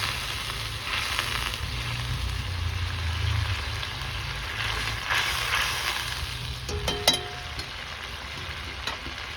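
Ground coriander, cumin and dried chili paste go into a pan with a little water over a wood-fired smokeless stove built in a flower pot, giving a steady close sizzle and frying hiss that swells and fades, with a few faint knocks near the end.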